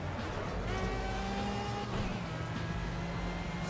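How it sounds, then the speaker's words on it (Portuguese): Honda car engine droning steadily while driving slowly, with a brief rising tone as it climbs and eases off, heard from inside the car without talk. "Deixando vocês escutarem um pouquinho o barulho do carro."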